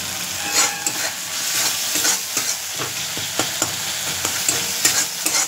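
Ghugni frying and being stirred in hot oil, a steady broadband sizzle with repeated scraping clicks of the spoon against the pan, close and continuous with no talking.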